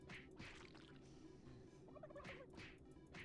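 Gobbling turkeys from the video game Super Turbo Turkey Puncher 3, a few loud gobble bursts close together with a short lull between them, over continuous background game noise.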